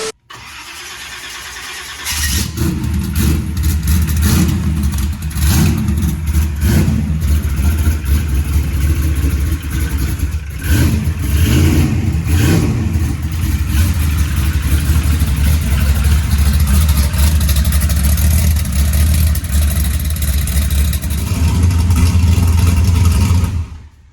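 Car with a Gear Vendors overdrive and no trans brake fires up and accelerates hard, its loud mid-pitched engine roar rising and dropping through several gear shifts, close and continuous.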